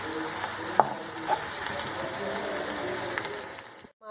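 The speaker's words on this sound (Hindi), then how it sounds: "बहुत अच्छी तरह से भूनते रहना है, मुसलसल चम्मच चलाना है" Grated carrots sizzle steadily in a pan for gajar halwa, with a soft continuous frying hiss and a few clinks of a spoon stirring, close by.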